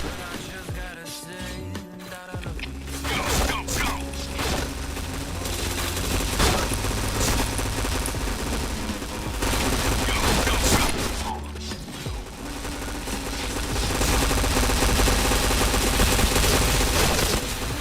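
Rapid, dense gunfire from a shooter video game, with overlapping machine-gun bursts and mechanical clatter running loud and nearly continuous throughout, easing briefly before resuming.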